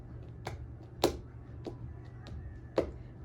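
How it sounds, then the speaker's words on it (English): Bare feet stamping on a floor in Kathak dance practice, a beginner's heavy strikes: about five separate thuds spaced unevenly over a few seconds, two landing noticeably louder, over a quiet room with no voices. "When you first start stamping, you'll probably sound like this."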